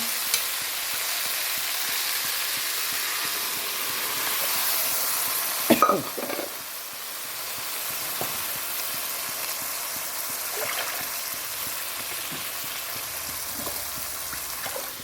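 Dal poured into a hot pan sizzles with a steady frying hiss, broken by a brief louder splash and crackle partway through, then a constant bubbling sizzle that carries on to the end.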